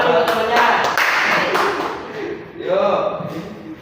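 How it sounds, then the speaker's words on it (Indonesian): Schoolchildren in a classroom clap together for a classmate in a quick loud burst that fades, followed by a spoken voice near the end. "Yuk, tepuk tangan buat temannya"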